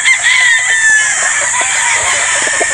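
Close, loud gamefowl rooster crowing from a trio of birds, two Sweater Boston and one pure Boston Roundhead, at a game farm in Batangas. One long strained crow with clucks and farmyard noise underneath.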